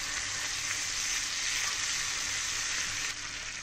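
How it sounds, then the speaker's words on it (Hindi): Masala of red chilli powder, Schezwan chutney and green coriander sizzles in butter on a tawa, a loud, steady, close frying hiss that drops slightly near the end, no voices. "मसाला अच्छी तरह सौते करके लेंगे"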